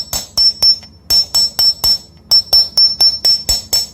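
Metal hammer tapping a chisel while chasing a flower design into metal, a crisp, ringing, evenly paced series of close strikes in short clusters, loud and alone with a faint high metallic ring.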